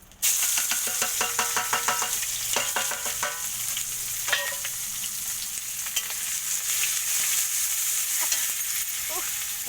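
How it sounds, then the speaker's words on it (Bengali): Sliced onions tipped into a hot wok of oil with cumin seeds and bay leaf set up a loud, steady sizzle, with scattered clicks and spatter from stirring throughout and no talking. "প্রথমে কড়াইতে আমি জিরে দেখো জিরে তেজপাতা দিয়ে দিচ্ছি এবার দিয়ে দেবো পেঁয়াজগুলো দিয়ে দিই"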